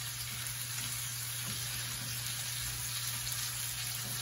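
Chicken pieces browning in a hot pan over a medium-high flame, giving a steady, even sizzle and hiss that runs without a break, close and moderately loud, with a faint low hum underneath.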